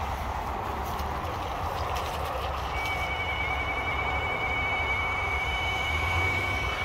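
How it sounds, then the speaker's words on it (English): Train passing the Drumbane Road level crossing in Craigavon, a steady broad rumble of wheels and carriages that fills the whole stretch, with a thin high warning tone running over it. "Train's coming."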